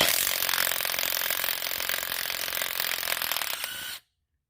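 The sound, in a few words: Matco brushless impact wrench spinning up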